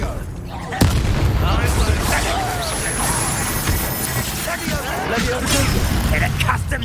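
A Confringo spell blast in the Hogwarts Legacy video game bursts with a sudden loud explosive crack, followed by dense rumbling combat noise and a voice calling out over the din.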